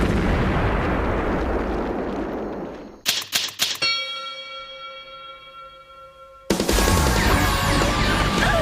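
A booming cannon blast in an anime, followed by a few sharp cracks, then a ringing metallic tone that fades before another loud rumbling burst returns.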